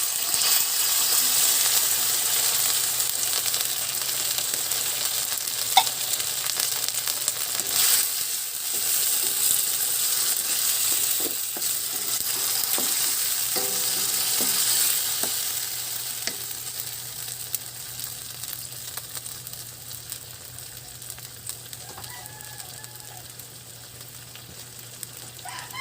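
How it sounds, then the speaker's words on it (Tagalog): Sardines sizzle loudly in a frying pan while being stirred, with constant crackling fat broken by scraping and clinking from the utensil against the pan. The sizzle fades slightly toward the end. "Ngayon naman ay lalagay na natin ang ating"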